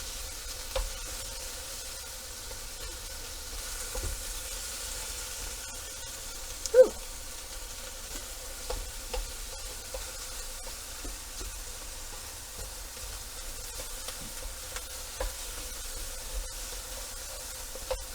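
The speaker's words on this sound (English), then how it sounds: "So just stir fry this until it's dry" Instant noodles with two eggs stir-fried in a pan until dry: a soft, even sizzle with faint scrapes and occasional light clicks from the utensil, one louder knock midway.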